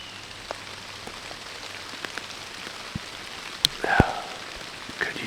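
Rain patters steadily in the woods during a bow hunt, soft and diffuse, with scattered louder drops striking close by and a brief sharper knock or rustle near the middle.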